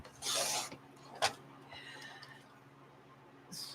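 Scissors or a paper trimmer cutting an artist trading card, with a short rasping cut, a brief sharp snip about a second later and another cut at the end, all close and quiet with a faint background hum.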